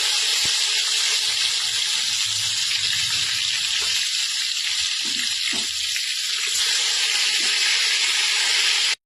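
Tomatoes hitting a hot pan of spices and asafoetida for a veg biryani, giving a steady, close hiss of sizzling that runs unbroken throughout.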